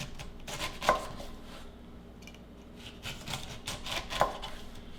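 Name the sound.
sharp knife cutting skin off pineapple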